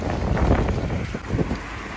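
Strong cyclone winds roar and buffet the microphone in Balneário Camboriú, Santa Catarina, a loud, gusty rush that swells and dips over about two seconds with no speech.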